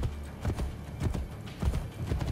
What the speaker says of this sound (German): Komm, Pferd. Mit dem Pferd reißt es sich schneller.